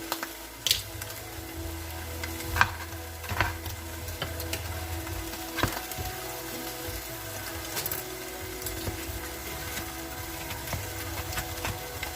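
A stuffed potato roll being chopped haphazardly with a knife, with scattered soft thuds and cuts on a board over a low steady background hum, close by, with no talking.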